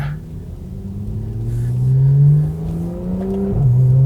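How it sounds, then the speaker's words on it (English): A Porsche 911 Club Coupe engine rumbles and revs upward in a smooth throttle blip, its pitch climbing and then settling back to a deep idle. "if they enjoy cars, give them a throttle blip"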